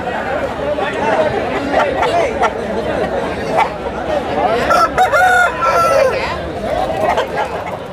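Roosters crow repeatedly over a busy crowd's chatter, with clucking fowl and voices filling a noisy open-air country chicken market.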